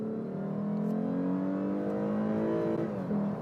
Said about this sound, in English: The engine sounds good. You may be able to hear it through the mic. It sounds almost supercharged. It has like a whiny characteristic to it.